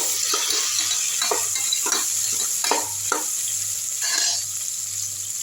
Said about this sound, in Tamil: வெங்காயம் லைட்டாக வதங்கட்டும் கருவேப்பிலையும் போட்டுக்கலாம் நல்லா வதக்கி விட்டுடலாம்